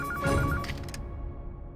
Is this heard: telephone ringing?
yes